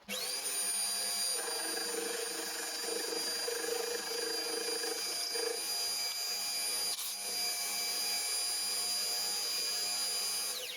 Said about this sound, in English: So we'll have another run now and see how we go.